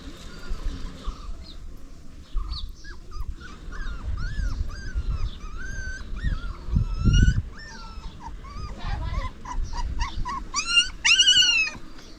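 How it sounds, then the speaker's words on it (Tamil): A small puppy whimpers in high, wavering whines over and over, with low rumbling growls and snuffling underneath, close by and fairly loud throughout. "நாய்க்குட்டி, உங்கள் நாய்க்குட்டி அது?"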